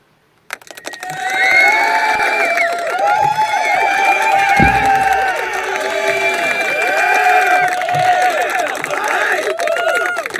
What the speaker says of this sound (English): Crowd's getting bigger.